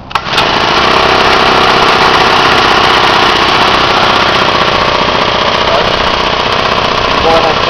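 Small four-stroke engine on a motorized bicycle running steadily and loud from start to finish, a continuous buzzing drone with a brief sputter as it catches at the beginning.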